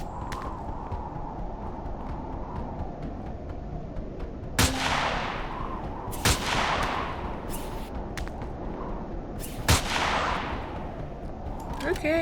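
Enemy gunfire in the sci-fi survival game Empyrion, a few sharp shots spaced seconds apart, each with a bright crack and short decay over a steady background rumble, with faint talk.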